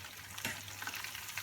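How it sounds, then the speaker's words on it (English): Chicken pieces fry in a pan for Korean-style chicken, giving a faint, steady crackling sizzle with a brief louder burst of spatter, heard alone. "after frying the chicken"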